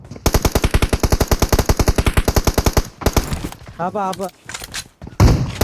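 Rapid automatic gunfire in a shooting video game, a long steady burst of evenly spaced loud shots followed by a few scattered thuds, with players talking over it.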